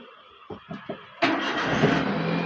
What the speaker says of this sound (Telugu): ఇంజన్ స్టార్ట్ చేసిన వన్స్ సింగిల్ స్టార్ట్లో స్టార్ట్ అయింది